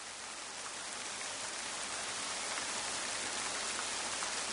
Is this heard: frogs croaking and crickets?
no